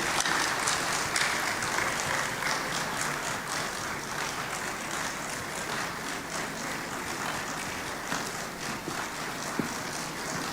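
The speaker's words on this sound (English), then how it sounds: "Please keep clapping as he comes up." A large audience claps continuously at a school's 150th anniversary launch ceremony in Ghana, a steady, full wash of applause that holds for the whole stretch.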